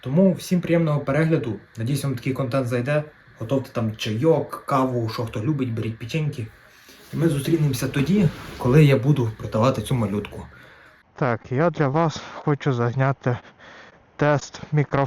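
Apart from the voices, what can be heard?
None of the usual background noises is heard.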